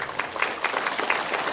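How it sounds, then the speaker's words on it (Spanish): An audience claps for a school band, the C.R.E.A. band of Santa Maria Yucuhiti, a brief, dense burst of many hands applauding at moderate volume with faint crowd murmur. "ese aplauso para ya que los alumnos van a presentar"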